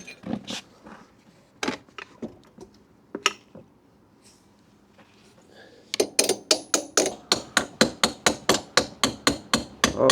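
Repeated hammer blows drive the rear axle through the wheel hub of a Honda CB125F motorcycle, a few scattered knocks first, then a fast steady run of sharp metallic strikes close by.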